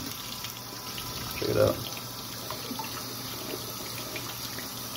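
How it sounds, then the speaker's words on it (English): Tap water splashes briefly over vegetables being rinsed in a sink, including okra, tomatoes and peppers, a short burst of running water under a person talking. "Now what I'm gonna do is rinse everything off."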